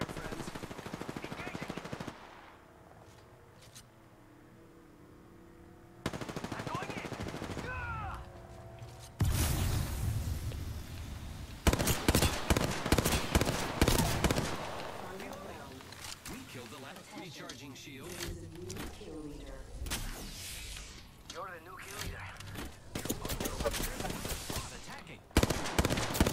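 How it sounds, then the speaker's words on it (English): Gunfire in the video game Apex Legends, bursts of rapid automatic shots and scattered single cracks between quieter stretches, with a player talking over parts of it. "Taking fire, friends."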